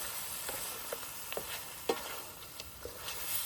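Pork ribs fry with honey stirred in a pan, a faint sizzle with a few soft spatula knocks, quiet and close, no one speaking.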